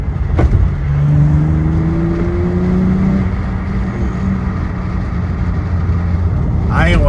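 An Acura TL's exhaust revs in a deep, crisp tone close by, rising and falling in pitch with a sharp burst near the start and another throttle blip at the end; people talk over it.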